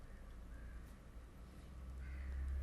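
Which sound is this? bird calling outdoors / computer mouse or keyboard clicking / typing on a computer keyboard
bird calling outdoors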